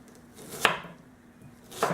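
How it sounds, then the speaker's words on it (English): Two crisp knife chops through an onion on a cutting board, spaced about a second apart, close by with no talking. "cut the onion in half"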